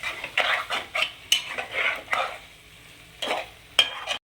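A tomato, onion and coconut paste hits a pan for chicken iguru and gets stirred, with soft sizzling under repeated clinks and scrapes of a metal spoon against the pan, close and uneven.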